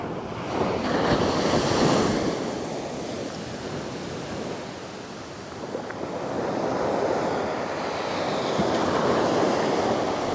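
Ocean surf rolls onto a fishing beach in slow, swelling waves, with rushing wash rising and falling over a steady bed of wind noise, fairly close and with no voices.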